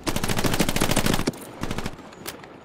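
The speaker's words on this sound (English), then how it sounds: "Next time, shoot your fucking gun," Gunfire in the World War II shooter Hell Let Loose starts with a dense, loud burst of rapid automatic shots, then trails off into scattered, fainter rounds.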